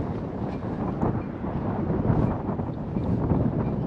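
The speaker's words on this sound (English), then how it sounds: "it's quite windy" Strong gusty wind buffeting the microphone outdoors at a camper park, a steady loud roar with surges throughout.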